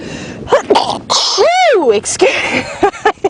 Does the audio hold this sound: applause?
no